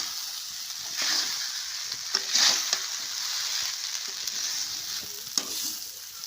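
Sabudana khichdi is heated and stirred in a pan, giving a steady close sizzle with occasional scraping stirs of the spoon.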